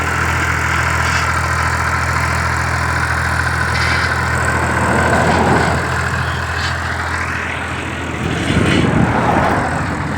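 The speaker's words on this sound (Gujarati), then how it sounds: "અને ભાઈ ટ્રેક્ટરથી શેળાવે" A tractor engine drones steadily and loudly while working a field during sowing, a continuous low rumble that swells slightly toward the end.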